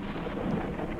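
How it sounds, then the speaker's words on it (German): Thunder rumbling during a storm in the video game Forever Skies, a low continuous roll lasting about a second, fairly loud with no break, no talking. "Gewitter sind gut. Gewitter gehen wieder."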